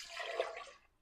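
Warm water poured into a bowl for sandwich bread dough, a brief, close splashing rush lasting under a second that tapers off quietly.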